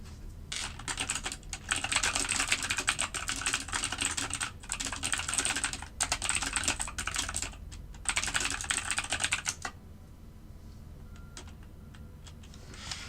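Rapid clattering keystrokes on a computer keyboard at a trading desk, close and fairly loud, coming in dense bursts with short pauses before tapering to sparse clicks, with no voices.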